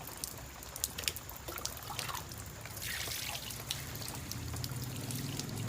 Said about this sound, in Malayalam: ഒഴിച്ചോളി അളിയനാണ് നമ്മുടെ വെള്ളം ഒഴിച്ച് തരുന്നത്